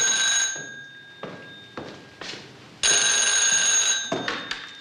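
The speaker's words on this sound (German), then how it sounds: "Würden Sie bitte ans Telefon gehen?" A telephone in a 1989 German crime drama gives repeated bursts of bright electronic ringing in an indoor scene, the rings breaking off and starting again.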